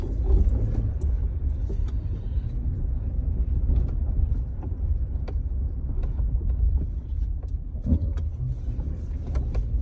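A car pulls away and accelerates after a traction-control fault from an ABS wheel speed sensor, its engine giving a steady low rumble heard from inside the cabin, with faint clicks and no talking.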